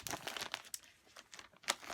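A plastic bag crinkles quietly up close as wool applique chicken wall-hanging pattern pieces are pulled out, a few short irregular rustles and crackles with soft gaps between them.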